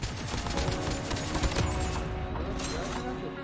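Rapid AK-47 gunfire in Call of Duty Mobile battle royale, a dense continuous burst of shots with game background sound, loud and close, easing slightly toward the end.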